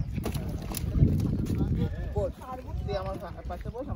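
Coracle boat ride on the Tungabhadra River at Hampi, with steady water and wind noise throughout as several people talk close by.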